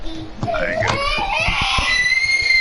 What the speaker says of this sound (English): I'm gonna make you hear my kids screaming